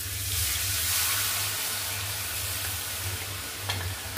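Tadka for kadhi sizzling in hot oil, a steady close frying hiss that runs throughout with a low hum beneath it and a brief crackle near the end; no one speaks.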